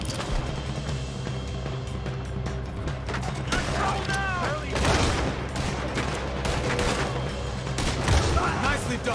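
A gunfight in Red Dead Redemption 2, with dense rapid gunshots, booms and ricochet-like whines piling up loud throughout, and voices mixed into the chaos.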